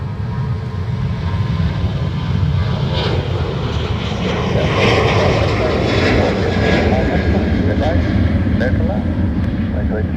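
A Ryanair airliner departs Dublin Airport for Brussels on a single-runway operations day, its engines a loud, broad roar that builds and holds steadily throughout.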